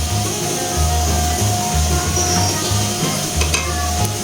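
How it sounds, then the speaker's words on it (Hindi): A spoon stirs ground dry fruits into soft cooked rice in a pan, a steady scraping stir over a faint sizzle, close and fairly loud, with a low rhythmic hum underneath and no talking. "अब हम इसमें जो हमने मेवाजात ग्राइंड किए थे वो इसमें डालेंगे।"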